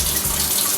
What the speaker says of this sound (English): So we'll get this tap going.